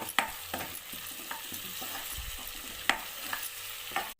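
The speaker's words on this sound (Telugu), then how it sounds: "ఇప్పుడు కరివేపాకు కొద్దిగా వేస్తున్నాను." Curry leaves and turmeric drop into a frying pan of hot oil with onions for potato rice, giving a steady close sizzle with a few sharp crackles and spatula scrapes, and no talking.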